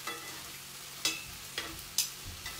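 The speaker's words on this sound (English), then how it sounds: "So, my chips need to be turned. I can see they're getting crispy." Homemade chips frying in a pan and being turned, a steady low sizzle broken by a few soft scraping stirs, with no talking.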